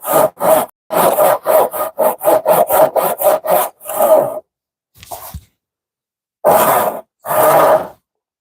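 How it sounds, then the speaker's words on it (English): A handsaw cuts through wood in a quick run of rasping back-and-forth strokes, then a few slower, separate strokes after a pause, close and clear. "It is an absolutely atrocious sawing technique, but it allowed me to mark the board."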